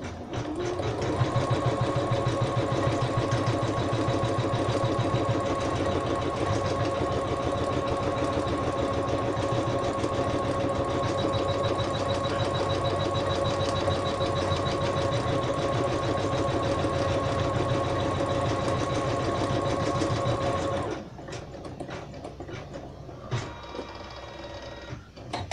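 An embroidery machine stitches the base of a bed design, a fast, even mechanical whir with a steady hum running continuously for about twenty seconds before stopping, followed by quieter small clicks and handling sounds.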